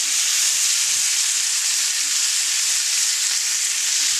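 Chuck roast searing in bacon fat on a Fry 56 fryer: a loud, close, unbroken sizzle with a bright hiss that holds steady throughout, with no voices over it.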